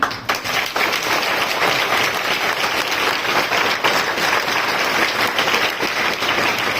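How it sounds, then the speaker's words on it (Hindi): A church congregation claps hands at a Hindi Christian teaching service: steady, dense applause from many people, filling the whole stretch without a break, close and fairly loud. "क्या आप इस वचन के लिए ताली बजा सकते हैं?"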